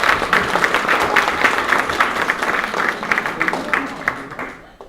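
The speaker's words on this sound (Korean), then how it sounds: "우리 박수로 환영하겠습니다." A church congregation at a Sunday service claps in welcome, a dense steady round of applause that fades out at the end.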